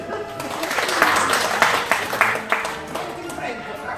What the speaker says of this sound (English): This is why people usually applaud!